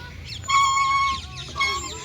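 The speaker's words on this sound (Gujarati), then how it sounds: "પક્ષીઓનો અવાજ આવી રહ્યો છે," Birds call out in a garden, with clear, fowl-like clucking and crowing notes that come in two bursts over a steady murmur of background noise.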